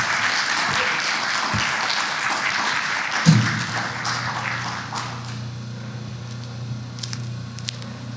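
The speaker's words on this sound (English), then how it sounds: "Another round of applause for Antonio" Audience applause at a film Q&A for the movie Autumn fades out over several seconds, a crowd clapping that thins into scattered claps, then a low hum with a few isolated taps and small room noises.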